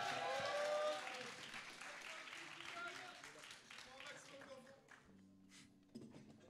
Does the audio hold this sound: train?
no